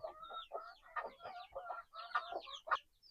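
Backyard chickens clucking continuously in a busy, overlapping chorus, several birds close by with rapid chattering calls and no pauses.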